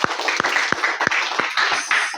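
Audience applause, a scattered round of individual claps with an uneven rhythm, fairly close and brief.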